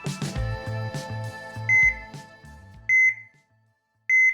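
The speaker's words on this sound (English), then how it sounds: "the alarms of a new AI weapon scanner at the Health Sciences Center, HSC's emergency departments" A new AI weapon scanner in a hospital emergency department sounds its alarm: after a short tonal jingle, three sharp electronic beeps ring out at roughly even intervals, clear and alone.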